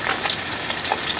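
Fish frying in a pan of hot oil, a dense, loud, continuous sizzle up close with no voices.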